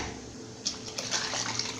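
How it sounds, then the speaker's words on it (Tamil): Cooked lentils thinned with water are poured into a pot of simmering tiffin sambar, a close, continuous liquid pour that splashes and gurgles for a couple of seconds. "இப்போ இதில் வந்து பருப்பு சேர்த்துக்கிறேன்."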